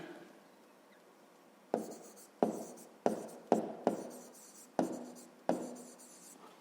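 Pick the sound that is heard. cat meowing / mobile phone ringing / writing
writing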